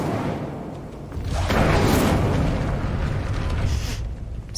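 An Incendio fire spell in the Hogwarts Legacy video game bursts out as a broad roaring blast, swelling after a second and holding loud and full for several seconds.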